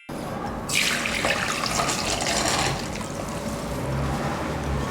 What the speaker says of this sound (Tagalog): And we're gonna drain our tteok.